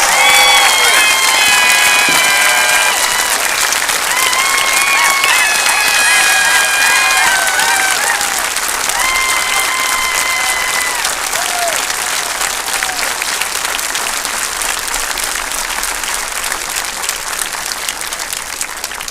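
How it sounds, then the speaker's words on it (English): At a high school commencement, a large crowd gives long, loud, sustained applause with whistles and cheers rising above the clapping, tapering slightly toward the end. "let's give these amazing young men and women a huge round of applause"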